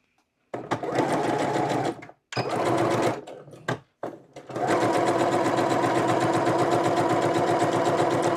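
A sewing machine stitches fabric in fast, even bursts, stopping briefly twice before running steadily again, close and clear with no voices.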